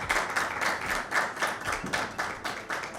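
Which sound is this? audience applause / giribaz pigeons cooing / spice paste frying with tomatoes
audience applause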